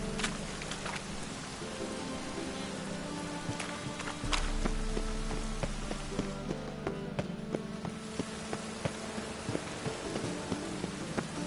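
Rain falls steadily in The Witcher 3 on Death March difficulty, a constant patter with scattered sharp drips and ticks, alone without talking.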